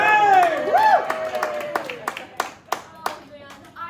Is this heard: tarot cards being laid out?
no